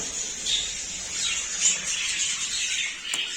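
Budgerigars in a large breeding aviary squawking and chirping, a busy, continuous chatter of many birds nearby with sharper individual calls popping out above the flock.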